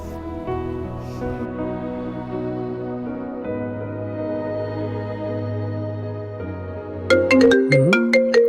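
A phone rings with a synthetic ringtone melody, a steady tonal tune that plays alone and then turns brighter and busier toward the end.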